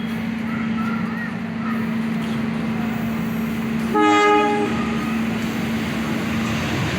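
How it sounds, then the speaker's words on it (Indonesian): KA Pandalungan passenger train from Jember arriving at Probolinggo station, a steady low engine drone with a loud horn blast of about half a second midway, heard from the platform nearby. "Ini dia KA Pandalungan relasi Jember sampai dengan Gambir Jakarta via Semarang."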